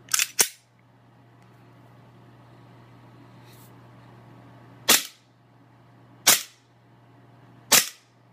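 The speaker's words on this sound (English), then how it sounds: "So I'm going to be doing a test fire only in semi." WE G18C gas-powered airsoft pistol fired in semi-auto: five sharp, close pops, two quick ones together at the start, then three single shots spaced a second or so apart after a long quiet pause with faint hum.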